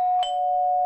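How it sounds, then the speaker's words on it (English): A single doorbell chime rings out clearly, one sustained electronic tone with a brief second strike, alone in a quiet room. "Go ahead and hit the doorbell for me."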